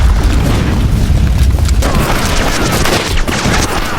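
A bomb blast in an action film about imperial elite soldiers, heard as a loud, sustained, rumbling boom with crackling debris that rolls on for several seconds, then dips slightly.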